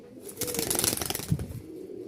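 Biscuit-coloured pigeons coo and rustle close by, a brief burst of soft cooing with some wing or body movement, fairly loud and without talking.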